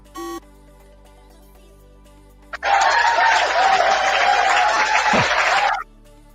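A brief electronic beep, a pause, then an applause sound effect played on a livestream: a dense, uniform burst of clapping that starts and stops abruptly after about three seconds.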